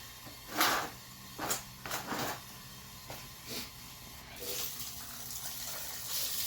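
Water is poured into a self-watering plant pot insert filled with soil, producing soft, faint splashing and trickling. A few louder splashes come early on, then the flow settles into a steady, quiet pour.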